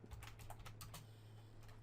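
Quick, close clicking of keys on a computer keyboard, a short burst of irregular taps over a faint low hum, with no talking.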